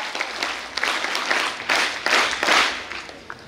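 A school audience applauds as a guest is honoured at a career guidance function, with brisk, fairly close clapping from many hands that rises and falls in short bursts.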